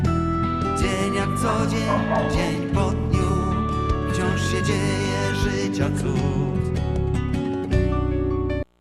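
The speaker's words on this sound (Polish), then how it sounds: "I ten kurwa pies tylko ujada" A dog yaps repeatedly in loud, sharp bursts, partly buried under dense, loud music throughout.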